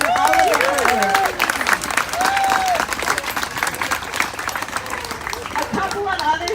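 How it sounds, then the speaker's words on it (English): Outdoor crowd at a playground ribbon-cutting ceremony breaks into loud, sustained applause, with cheers and excited voices, including children's squeals, rising over the clapping, which gradually thins out. "So please give them a warm round of applause for all of your work."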